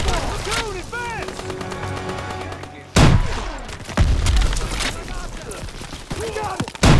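Bursts of gunfire and machine-gun rattle in a Call of Duty WWII battle, loud and close, broken by heavy booms and thuds, with shouted voices and chatter mixed in.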